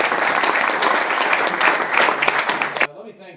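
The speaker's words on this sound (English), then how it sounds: "You can applaud that if you want" Applause from guests at a political gathering in a private home with a politician: loud, full clapping that stops abruptly near the end, when a voice comes in.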